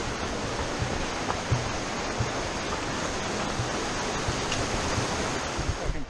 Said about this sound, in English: look at that beautiful creek